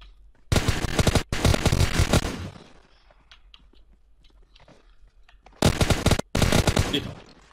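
Two loud bursts of rapid automatic gunfire in PUBG Mobile, one near the start and one near the end, with a quieter stretch of faint clicks and shuffling between them.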